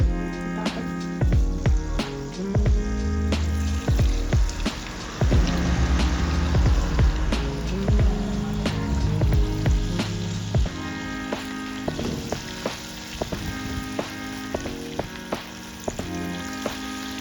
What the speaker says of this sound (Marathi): थोडंसं मॅरिनेशन टाकून बघते, जर वर आलं तर समजायचं की आपलं तेल तापलं आहे व्यवस्थित